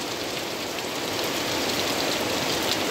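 Heavy first monsoon rain pours down in a steady, dense roar of drops drumming on surfaces, loud and unbroken with no voices.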